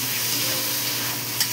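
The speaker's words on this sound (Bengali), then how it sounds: "একটু কষিয়ে নেব।" Shrimp and tomato sauté in a pan with a continuous crackling sizzle and a quick stir near the end, loud and close.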